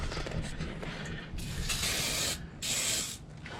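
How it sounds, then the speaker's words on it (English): Close, hissing bursts of an aerosol spray can coating a snowmobile trailer spring against rust, two longer sprays following a shorter one, with faint clicks of the nozzle between them. "I spray these down."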